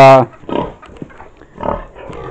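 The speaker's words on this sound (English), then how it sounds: "our pigs are so big too, as you can see by this gal right here" A large sow in a concrete pen gives several close, deep grunts, starting with a loud one and followed by spaced, rougher snorts.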